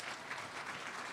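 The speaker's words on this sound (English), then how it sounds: "so I just want to give them a round of applause." Audience applause in a community hall facility, a dense continuous patter of clapping hands held at steady volume for about a second with no talk over it.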